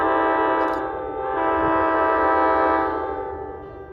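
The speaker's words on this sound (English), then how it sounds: "They were equipped with Nathan K5LA air horns." A Nathan K5LA air horn sounds on a VRE Kawasaki bi-level commuter train: one loud, sustained chord held for about three seconds, swelling slightly before tapering off, close and clear with no talking.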